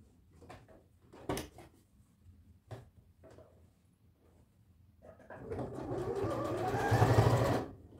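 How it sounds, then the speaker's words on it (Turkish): A sewing machine stitches a seam through the elastic waistband of sweatpants, starting with a few knocks and clicks, then a steady close whirring run that builds in loudness toward the end. "Ben lastiğimin ortasından bir dikiş gidiyorum arkadaşlar."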